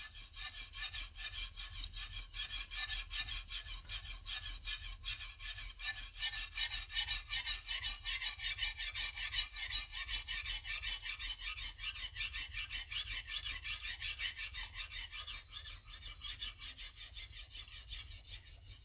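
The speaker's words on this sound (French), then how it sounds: "je fais la même étape de travail" A kitchen knife is sharpened on a whetstone, its blade rubbing back and forth across the stone in a steady, continuous scraping rhythm that stays close and even throughout, with no talking.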